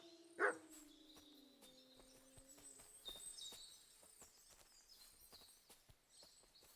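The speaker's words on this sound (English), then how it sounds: "What have you found, dog?" A dog barks once, sharp and close, in the medieval Bohemian world of the video game Kingdom Come: Deliverance II, then birdsong and soft ambient sounds carry on.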